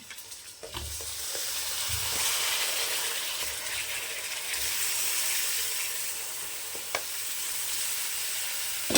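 Steady, busy sizzling of mutton frying in hot oil, with a few stirring scrapes and clinks near the start and later, no voices.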